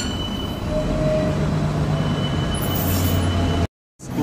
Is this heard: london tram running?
yes